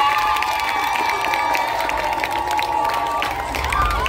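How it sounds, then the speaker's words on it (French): An audience at a school's tenth-anniversary cultural evening claps and cheers, a continuous loud wash of crowd noise with shouting voices and ringing tones over the applause. "Applaudissez encore, s'il vous plaît."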